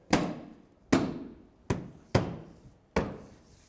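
Five firm hand strikes pop a windshield washer reservoir's tabs into place on a 2015-2016 Hyundai Sonata, each a close, hollow plastic thump with a short ringing decay, spaced under a second apart, no talking.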